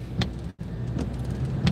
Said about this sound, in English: that car was like so close to me